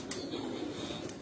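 Pigeons of a house-bred strain, including a chapdi breed and teddy pigeons, in flight, giving faint soft cooing over a steady low hum of background noise, quiet and somewhat distant.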